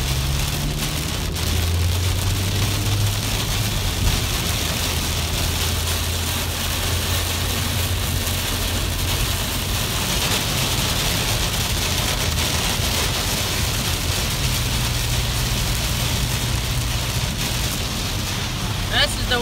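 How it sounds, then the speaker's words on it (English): Pouring rain drumming steadily on a vehicle while driving toward a storm near farmland, a dense continuous patter with a low engine hum beneath and a voice talking over it. "It's Friday and it's pouring rain."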